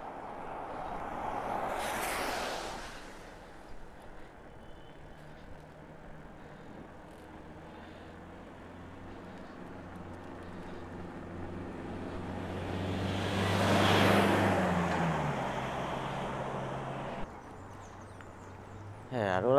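A big truck rumbles past a cyclist on a road, rising to a loud roar and then fading, with steady traffic noise and wind before and after.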